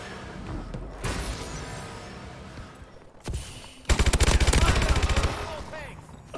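Strafing gunfire in the video game Call of Duty Advanced Warfare: a loud, rapid machine-gun burst of evenly spaced shots near the middle, after a few isolated bangs and impacts, close and prominent over game noise.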